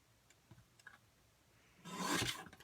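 Card-making paper is trimmed with one brief, close rasping slice near the end, after a few faint taps and handling sounds.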